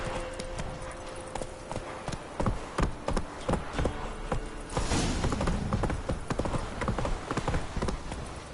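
Horse hooves clip-clop in a PS4 game, a brisk run of sharp, close, evenly spaced strikes that quicken toward the end over a steady background.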